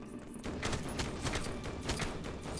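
Rapid, continuous gunfire from Lego Marvel Avengers fills a short stretch, a dense stream of quick repeated shots at steady loudness.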